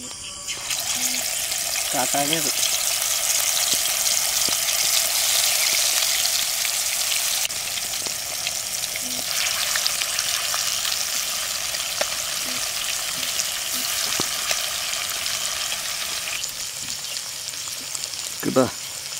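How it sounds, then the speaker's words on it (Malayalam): Fish fries in hot coconut oil in a pan with a steady, loud sizzle that carries on throughout, broken by a few soft clicks and taps. "കുറച്ച് വെളിച്ചെണ്ണ ഒഴിച്ചിട്ട് മീനെ ഇടാം ചട്ടിയൊക്കെ ചൂടായിട്ടുണ്ട്"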